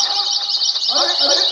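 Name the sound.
birds chirping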